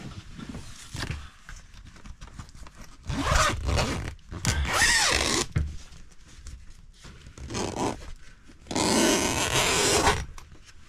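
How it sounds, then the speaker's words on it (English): Zipper pulled along a repaired vinyl window on a pop-up camper, several loud bursts of zipping separated by pauses, close and alone. "Now let's just see how it looks zipped up."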